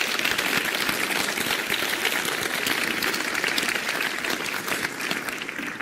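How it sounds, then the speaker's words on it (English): Sustained audience applause at a Dr Steven Greer event, thanking the organizers with an even, steady roar of many hands clapping at full strength throughout. "a round of applause to Jim Martin and Paul Davidson"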